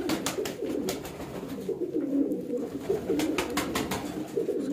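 Female pigeon cooing, repeated soft throaty coos in a steady rhythm, close and moderately loud against a light background.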